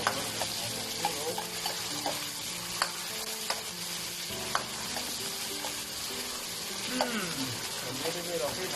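Organic cauliflower stir-fried in a wok with Pixian bean paste and oyster oil, steady sizzling with repeated scraping stirs and clinks of the spatula, close up.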